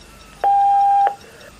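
A single steady electronic beep from a telephone answering machine, sounding alone for about half a second right after the outgoing greeting, clear and fairly loud against a quiet line.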